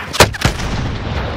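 Two sharp, booming gunshots from a video game firefight ring out close and loud in quick succession, followed by a decaying rumble and low background noise.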